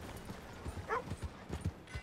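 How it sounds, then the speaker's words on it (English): Horse hooves clip-clop in Red Dead Redemption 2, a steady run of soft, low thuds at moderate distance, with a brief tonal game sound in the middle. "it's your horse."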